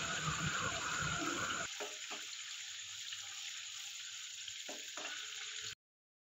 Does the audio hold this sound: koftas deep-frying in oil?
yes